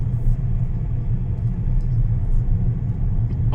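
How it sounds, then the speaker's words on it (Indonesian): Electric car's motor and road noise heard from inside the cabin on an Atto 1 test drive in Indonesia; a steady low rumble, continuous and moderately loud, with no talking. "di dalam ada kedengeran suara mobilnya, mesin mobilnya."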